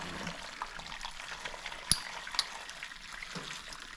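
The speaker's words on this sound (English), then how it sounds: "So what I'm gonna do is take that delicious broth. I'm just gonna pour it down here." Steamed clam broth poured out, a steady soft liquid wash with a couple of small clinks, moderately close and continuous, no talk.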